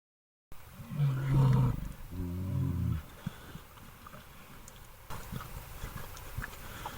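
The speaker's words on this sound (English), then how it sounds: "Grizzly bear." A grizzly bear roars loudly and alone in a forest setting, a deep drawn-out bellow followed by a second rumbling growl, then quieter rustling and low grunts trailing off.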